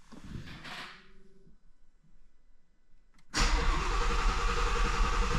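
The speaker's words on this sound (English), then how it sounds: "if you wanted to just crank the motor and not actually start it" A 2017-2020 Shelby GT350 engine is cranked without starting. Faint shuffling comes first, then an abrupt, loud, sustained mechanical churn for the final two seconds.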